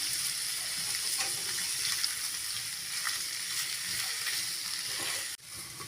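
Raw banana slices with masala are stirred in a frying pan, producing a continuous close sizzle with scraping stir sounds that stop abruptly near the end.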